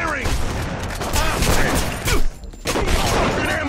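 Sustained rapid gunfire from a shootout in The Punisher video game, loud and dense throughout with a brief lull midway, mixed with game voices.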